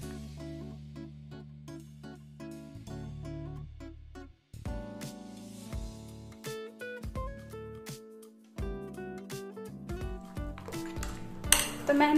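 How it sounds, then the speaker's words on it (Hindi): Henna is mixed with egg white in a bowl, and a utensil clinks and scrapes against the sides in uneven bursts. The sounds are moderately close, with a brief pause partway through, and no one speaks. "बाद बाकी आपको इसमें मिक्स कर लेना है अच्छे से।"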